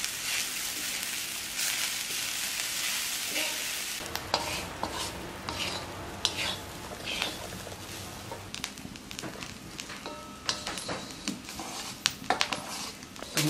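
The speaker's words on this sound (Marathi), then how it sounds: "आता हे सगळं एकत्र आपण छान परतून घेऊया." Fresh grated coconut sautéed in a pan, a soft continuous sizzle and crackle under repeated scraping and stirring of a utensil against the metal, close and moderately loud.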